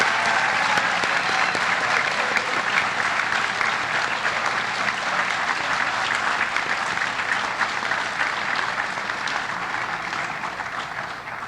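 Sustained, dense applause from a large audience at a high school senior night honoring scholarship and award recipients, loud and even throughout, tapering slightly at the end.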